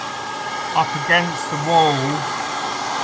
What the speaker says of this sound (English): run your hairdryer over it, make sure it comes out